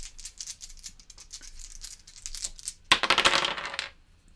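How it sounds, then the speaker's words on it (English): Four dice are rolled for a solo board game, with a light clicking rattle followed by a louder, denser clatter of several dice tumbling across the table for about a second. "But now we only get to roll 4 dice."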